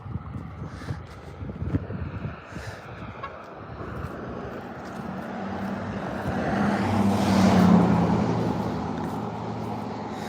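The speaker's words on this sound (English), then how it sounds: "Comes another car right here." A single car passes on a rural road at an old ghost town in Union Level, Virginia, with a rising rumble that swells to its loudest near the end, mixed with outdoor wind noise.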